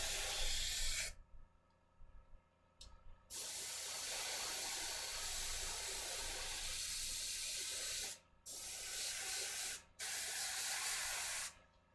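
An airbrush sprays a dust glaze onto a Gaslands miniature model vehicle, giving steady hissing bursts of air that start and stop several times with brief silent gaps between them.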